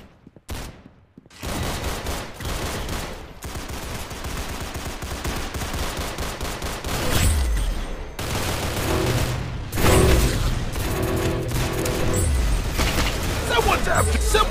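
Rapid gunfire bursts and repeated shots in the Roblox game Arsenal, dense and loud throughout, with booming impacts layered over continuous game action and voices.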